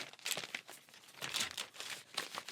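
Scissors slicing through clear plastic packaging for a card-making craft, a close, quiet crinkling and crackling in short repeated strokes.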